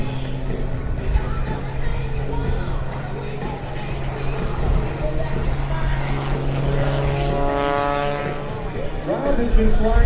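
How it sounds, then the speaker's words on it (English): Rob Holland's MXS-RH aerobatic plane flies at an airshow, a loud propeller engine droning and shifting in pitch as it maneuvers, with a rising sweep toward the end, under an announcer's voice over the PA. "Rob's aircraft of choice for both air shows and competition is the one you see flying here today"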